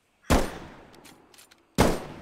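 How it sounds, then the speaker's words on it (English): Two sharp, loud remote-detonated explosions in the video game Bigfoot, separated by about a second and a half of decaying rumble and faint debris. "I think I can blow this up now, remote detonation style."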